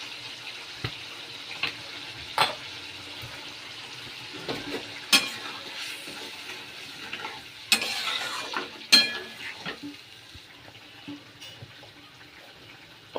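Spinach curry with Kashmiri chili powder and salt being stir-fried in a pan, giving a faint, steady sizzle with intermittent scraping and clattering stirring strokes throughout.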